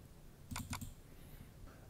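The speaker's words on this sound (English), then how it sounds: "So double click object access." A computer mouse double-clicks once, two quick close clicks near the middle against a quiet room background.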